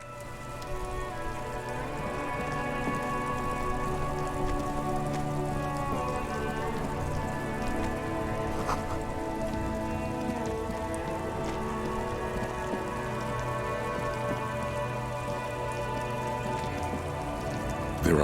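Steady rain falls in the detective role-playing game Disco Elysium, a dense continuous patter on surfaces under a constant droning ambient backdrop, loud and unbroken throughout.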